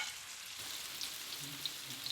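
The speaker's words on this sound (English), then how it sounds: "me personally now I'm frying it only from 2 sides" Tofu sizzles and crackles steadily in a hot frying pan, a soft, even hiss with occasional small pops.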